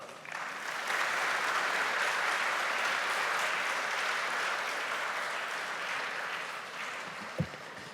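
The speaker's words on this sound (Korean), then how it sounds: "김명현 교수님 나오실 때 동안의 박수로 환영하겠습니다" A church congregation applauds steadily for several seconds to welcome a visiting professor, a dense, even wash of clapping that fades slightly toward the end, with one sharp knock near the close.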